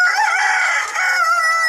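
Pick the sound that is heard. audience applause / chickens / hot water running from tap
chickens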